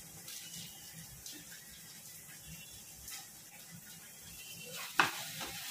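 Boiled pasta and vegetables are stirred and cooked in a pan over a medium flame, a faint, steady sizzle with soft scraping strokes and a sharper clatter near the end.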